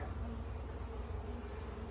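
Honey bees drone in a newly installed nucleus hive box, a continuous faint low buzz with no breaks and no nearby voices.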